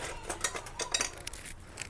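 A spoon beats a maida flour mixture with milk in a bowl for soft bakery-style buns, making quiet, quick, repeated clicks and scrapes close by, fairly faint, with no voices.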